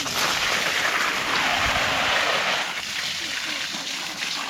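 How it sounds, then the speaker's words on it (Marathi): Water sprayed from a hose onto trees in a cashew and areca orchard, a continuous rushing, splattering spray, with faint talk in the background. "आज मोर्यानी पाणी दिलं."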